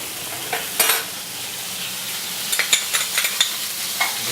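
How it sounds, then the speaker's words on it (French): Shallots fry gently in a little butter in a pan, a soft continuous sizzle broken by a few sharp clicks and scrapes of a utensil stirring, most frequent toward the end. "on va faire revenir les échalotes dans un peu de beurre"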